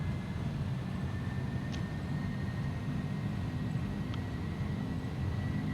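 An airliner on a slow takeoff roll in a flight simulator game, its engines giving a steady, loud low rumble throughout with a faint constant whine above. No one speaks.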